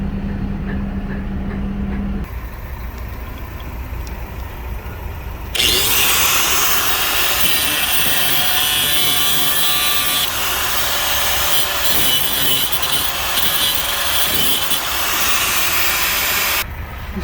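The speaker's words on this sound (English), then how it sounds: "So I think we're gonna cut that thing." An angle grinder cuts through a tight bolt on a truck, starting after a quieter stretch with a bright, harsh grinding hiss that holds steady at close range, with no speech.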